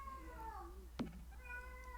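A cat meows in the background of a room, several drawn-out wavering meows at moderate volume over a steady low hum.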